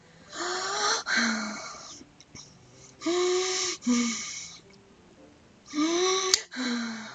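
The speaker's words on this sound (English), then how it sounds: "It sounds like breathing. A sharp inhale, like someone is sucking the air through their teeth." Sharp, raspy breaths are drawn in and pushed out in three separate rounds, like air sucked hard through clenched teeth, heard in the horror game Doki Doki Literature Club; the breathing is close and harsh with short quiet gaps between rounds.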